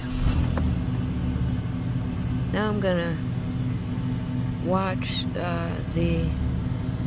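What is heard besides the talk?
2008 Chevy Impala engine starting and idling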